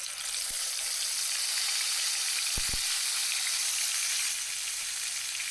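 Tomato paste hitting hot oil in a pan already holding chopped ginger, while a Bengali mustard pabda fish curry is cooked, gives a steady, bright sizzle that fills the whole clip, with a few soft knocks partway through and no talk.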